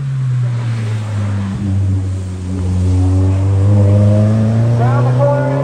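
Race car number 59 accelerates up the Greve De Lecq hillclimb, its engine droning loud and near and then rising in pitch as it pulls through the gears, with a commentator's voice over it.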